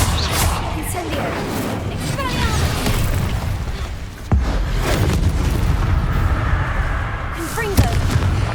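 An Incendio fire spell is cast in Hogwarts Legacy among booming combat impacts and crashes, with a sharp hit near the middle. The effects run continuously under a busy game mix with talk present.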